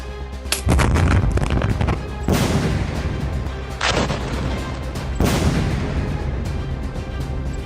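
Four heavy explosions from Israeli strikes in Gaza boom one after another, each loud blast followed by a rumbling decay before the next.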